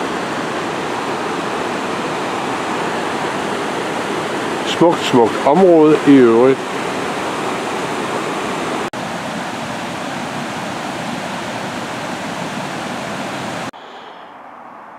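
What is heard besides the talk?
waterfall by an old sawmill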